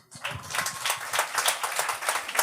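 A small comedy-show audience gives a short burst of scattered clapping, a quick patter of many hands at moderate distance that carries on steadily.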